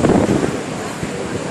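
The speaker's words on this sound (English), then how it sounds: "Sometimes the waves themselves hit the pier." Stormy, choppy surf at Ocean Beach crashing against and spraying the underside of the pier, a loud continuous wash with heavy wind buffeting the microphone; the roar peaks at the start and then settles into a steady churn.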